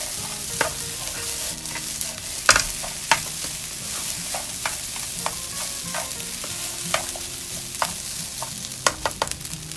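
Garlic rice being stir-fried in a pan for a simple Filipino breakfast, with continuous sizzling and frequent sharp scrapes and clinks of a spatula against the pan, close and busy.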